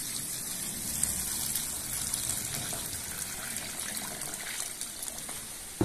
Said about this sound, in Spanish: Ahora les vamos a poner el agua clara.